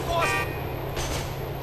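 Car horn honking in Grand Theft Auto IV: a brief toot near the start, layered over steady game traffic and engine noise with talk running throughout.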